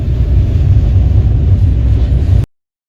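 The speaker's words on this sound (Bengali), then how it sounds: "এই ওই ব্রিজ থেকে একটা লোকাল ট্রেন যাচ্ছে" A local train crosses a rail bridge next to a national highway, a steady, loud low rumble of wheels on track that holds evenly and then stops abruptly.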